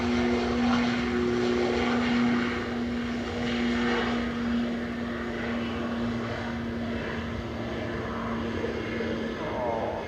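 An Air Canada Boeing 787-9 Dreamliner, flight 908 from Toronto, arrives at Manchester Airport with a steady engine drone and a sustained tonal hum, moderately loud and continuous.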